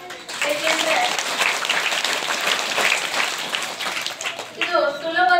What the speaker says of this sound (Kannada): ನಿಮ್ಮೆಲ್ಲರ ಚಪ್ಪಾಳೆ ಮೂಲಕ ಮಕ್ಕಳೇ ಅಭಿನಂದನೆಯನ್ನ ಸಲ್ಲಿಸೋಣ